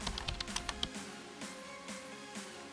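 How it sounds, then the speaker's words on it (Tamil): Computer keyboard keys tapped in a quick burst of about eight clicks, typing a search term into a browser, then soft background music continues alone. "அதில ChatGPT அப்படின்னு டைப் பண்ணிக்கலாம்."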